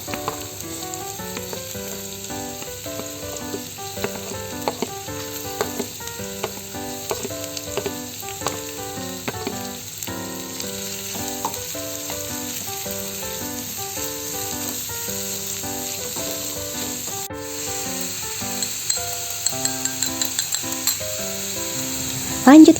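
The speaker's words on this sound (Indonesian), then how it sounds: "Setelah wangi bawang merah bawang putihnya, kita masukin buncisnya." Green beans stir-fry with shallots and garlic, a steady sizzle running throughout with occasional utensil scrapes, partly masked by background music.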